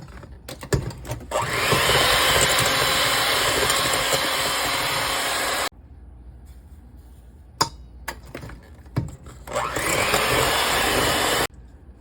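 An electric hand mixer beats sugar, added a tablespoon at a time, into a batter for a strawberry shortcake ice cream roll, whirring loudly in two long steady runs separated by a quieter pause with a few clatters.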